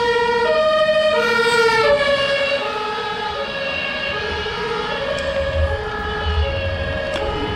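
Ambulance siren wailing loudly and continuously in alternating rising and falling tones, close by on a city street during a cycling demonstration in Munich, with traffic rumble underneath.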